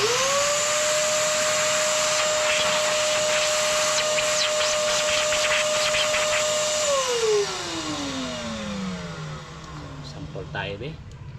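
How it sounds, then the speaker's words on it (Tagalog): Shop vacuum cleaner sucking debris from the oil drain plug hole of a Honda TMX 125 motorcycle, a loud steady whine that winds down after about seven seconds, with clanks and a voice over the motor. "Vacuum natin ulit."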